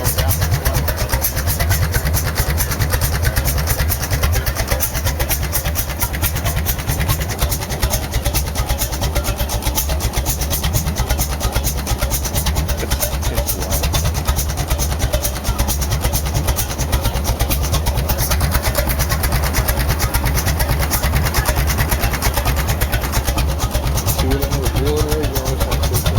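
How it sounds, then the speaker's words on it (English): An antique engine, cold and not yet warmed up, runs loud and steady at a fast idle, cooled by fresh water pumped straight through the motor with no radiator; a person talks over the constant chugging. "The engine's still cold. It needs to be warmed up just a little bit to idle down."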